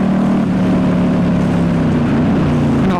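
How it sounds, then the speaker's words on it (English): A 2019 Ducati Diavel S fitted with a full exhaust slows on its back brake alone, its engine a loud, steady rumbling drone close by with no talk over it. "I'm going to pull into here and I'm going to use the back brake to slow down."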